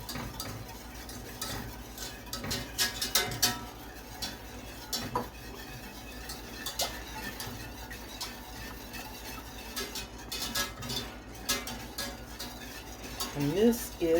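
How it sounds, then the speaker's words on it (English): A utensil scrapes and clinks steadily in a pot of sugar, salt and flour over medium heat, with soft irregular taps throughout and no talk. "I'm going to be standing here stirring"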